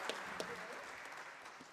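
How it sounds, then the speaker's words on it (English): An audience claps for panelists at a science week strategic dialogue. The applause is a brief, moderate patter of hands that stays steady, then tapers slightly. "Let's clap for them."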